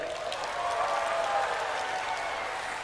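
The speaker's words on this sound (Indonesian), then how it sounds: "Tepuk tangan untuk Trenggalek." Audience applause for Trenggalek rises in a steady, dense wash of clapping from a crowd, sustained and fairly loud for a few seconds without a break.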